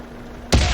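A Type-61 tank cannon fires once in a video game, a single loud, close boom that bursts out of a quiet, humming background and rumbles on to the end.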